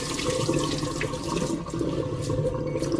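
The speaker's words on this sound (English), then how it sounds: "you need to wash the rice" Sushi rice being washed in water, with a steady running and sloshing wash of liquid throughout, close and continuous, no talking.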